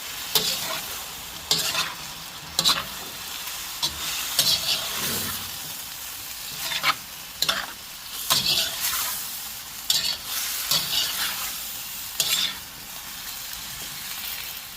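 Tomatoes and onions stir-fried in a hot pan for a veggie shrimp and broccoli dish, giving a steady frying hiss with repeated sharp scraping strokes of a utensil at a regular rhythm, close and fairly loud, with no talking.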